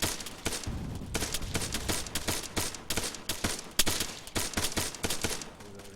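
Rapid gunfire crackles through a night platoon shooting drill with a Marine expeditionary unit, many sharp shots in dense irregular bursts, some overlapping, loud and close with a continuous rumble underneath.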